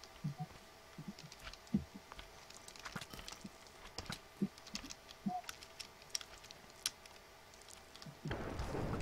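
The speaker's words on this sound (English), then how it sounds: "You can hear my keyboard?" Clicks of a computer keyboard being typed on during a Minecraft game, with irregular light keystrokes in bursts at moderate closeness and no talk over them.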